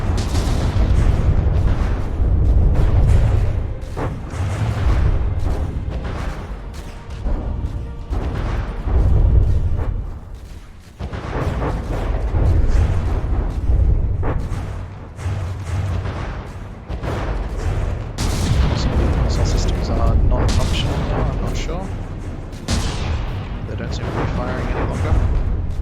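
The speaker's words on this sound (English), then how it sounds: "And those torpedoes coming in." In a naval battle in the video game From the Depths, torpedoes detonate as a run of deep, rumbling booms and blasts over steady battle noise, while a commentator talks throughout.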